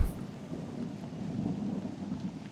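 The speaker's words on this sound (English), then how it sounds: "Within a minute of it wasn't just raining, it was storming." In a Doki Doki Literature Club mod, a game thunderstorm with heavy rain rumbles steadily and fairly quietly, a low continuous wash of rain and distant thunder with no voices.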